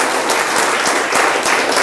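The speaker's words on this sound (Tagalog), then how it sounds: "Come on, clap your hands to the Lord." A church congregation claps hands in praise, a dense, steady roar of many palms that runs unbroken from start to finish with no voices standing out.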